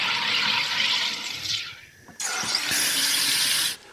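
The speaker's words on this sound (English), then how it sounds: "I'm also gonna make myself some seltzer water to go with dinner" A loud hissing rush of gas forced into water by a SodaStream making seltzer, two long bursts separated by a short pause, close by with no talking.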